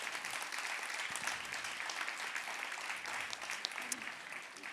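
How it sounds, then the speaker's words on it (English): Applause from an audience at a congressional ceremonial swearing-in, cheering Judy Chu: a quiet, distant, continuous patter of many hands clapping steadily with no pauses and a few faint voices mixed in. "Let's give her another round of applause."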